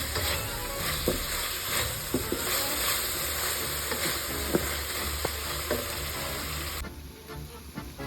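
Chicken frying with chili garlic sauce in a hot pan, a dense steady sizzle broken by small spatula taps and stirring clicks, close and continuous, easing slightly near the end.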